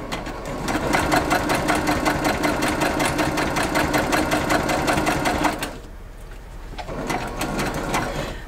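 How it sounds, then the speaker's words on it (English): A sewing machine stitches embroidery over a line of earlier stitching on a Christmas flowers panel. It makes a loud, steady, rapid mechanical chatter that pauses briefly and then restarts a little softer. "Going right over that first line of stitching there."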